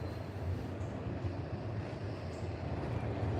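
Freight train with auto rack cars rolling past up close, a steady loud low rumble and rattle of wheels on rail with no break, wind noise mixed in.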